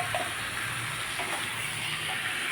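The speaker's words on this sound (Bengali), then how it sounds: "এদিকে আমি ম্যারিনেট করা চিকেন ঢেলে দিচ্ছি" Marinated chicken hits a hot pan and sizzles in a steady, loud hiss that fills the whole stretch without a break, with no talking over it.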